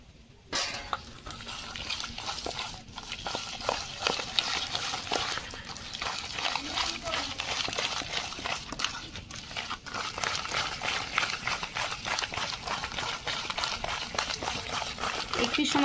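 Milk whisked into a palm pulp and semolina batter in a glass, a rapid continuous wet scraping and tapping rhythm close by, with brief quieter pauses and a voice at moments.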